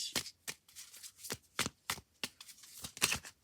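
Tarot cards shuffled by hand, a quick series of about a dozen crisp riffling snaps and slaps at an uneven rhythm, close and clear with no voice.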